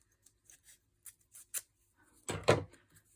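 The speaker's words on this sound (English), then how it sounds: "these are not my cutting scissors, so I don't know. They're my paper scissors." Several short crisp snips of scissors cutting paper, spaced irregularly, then a louder rustling crunch of paper being handled near the end.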